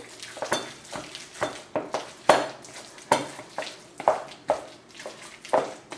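A spoon mixes chunky green bell pepper guacamole with cilantro, salt and pepper in a bowl, making a steady rhythm of wet squishing strokes and light scrapes, close and repeated about once a second.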